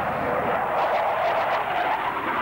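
A Tornado F3 jet fighter flies past at the 1993 Newtownards air show, its engines a steady, loud, broad roar with no voices.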